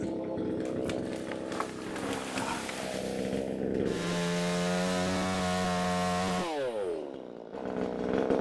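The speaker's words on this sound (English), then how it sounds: "Mainly to get the chainsaw started" A chainsaw runs steadily while clearing outbuildings at a château, its engine revving up to a sustained high whine as it cuts, then dropping sharply as the throttle is released, loud and close with no talk.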